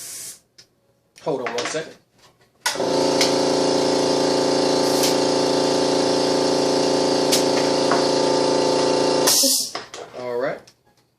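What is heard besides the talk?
compressed air being put into a tire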